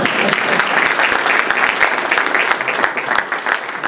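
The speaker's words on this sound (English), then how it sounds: "Give yourselves a round of applause." Audience at a Ghana Investment Promotion Centre event giving themselves a round of applause, lively clapping with distinct individual claps audible, fairly close and sustained.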